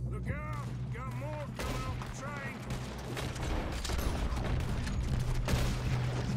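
Gunfire rings out in Red Dead Redemption 2 amid a dense, noisy game soundscape, with shots blending into continuous rumble while a person talks over it.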